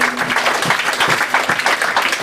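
Audience applause fills a church during a gospel service, a steady dense wash of many hands clapping at close range with no talking over it.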